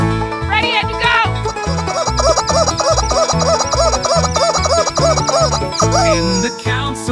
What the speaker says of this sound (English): 14 rubber chicken squawks for Allie K.